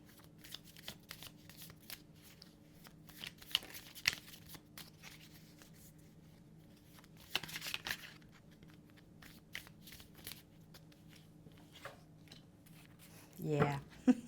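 Tarot cards are shuffled close by in soft, crisp riffles and light flicks, occurring in scattered bursts with quiet stretches between and a slightly louder rustle near the end.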